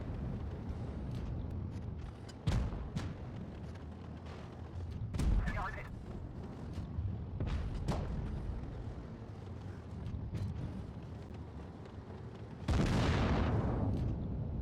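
Tank cannon shots in World of Tanks Blitz, with an FV-215b and an E3 in the fight: several sharp booms spaced across the stretch, the last one loud and rumbling, heard over a steady low battle drone.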